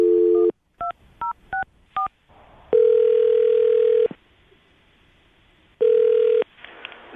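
Push-button telephone dialing a number: a short steady dial tone, then four quick DTMF key beeps in a row, followed by long sustained tones and a final beep, all loud and close with no talking.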